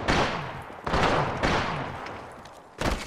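Gunfire from the video game Apex Legends: several loud, close bursts of rapid shots with short gaps between them, and no voices.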